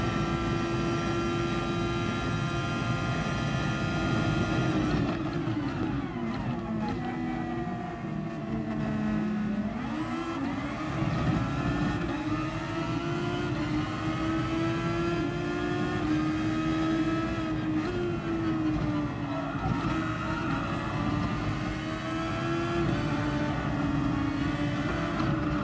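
Monster go-karts racing around the Fuji track in a video game, engines droning and whining with pitch rising and falling through shifts and corners, loud and continuous.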